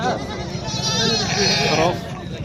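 Sheep at an outdoor livestock market in Oujda bleat in a long, wavering cry that runs for about two seconds amid background crowd noise and voices.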